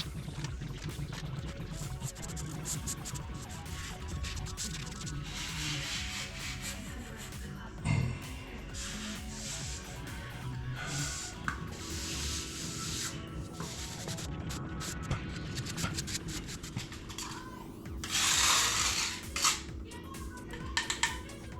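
Seam filler being wiped off a repaired ceramic kitchen tile makes continuous close rubbing and scraping. Light clinks and clatters sound throughout, and a brief louder hiss comes near the end, with no talking.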